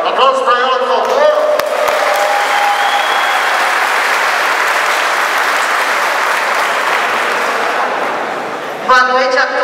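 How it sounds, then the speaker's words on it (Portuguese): Audience at a political candidates' meeting bursting into loud, sustained applause for a vice-mayor candidate, a dense wall of clapping lasting several seconds between stretches of speech. "Aplausos para ela, por favor!"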